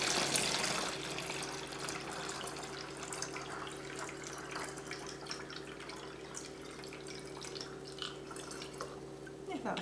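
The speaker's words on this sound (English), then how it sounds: "fill one of the water bottles about 2/3 of the way full with water" Water runs steadily into a plastic bottle, filling it about two-thirds full, with a continuous trickling, splashing flow, close up, with a faint hum underneath.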